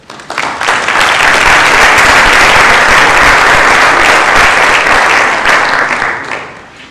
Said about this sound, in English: give an applause to Greg.